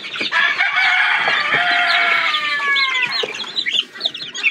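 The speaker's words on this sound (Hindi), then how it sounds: "माशाल्लाह ये हैं जो हमारे मुर्गी के बच्चे।" Desi chickens and chicks on a poultry farm in Punjab cluck and squawk close by, with a drawn-out crow-like call rising over the busy, overlapping flock chatter.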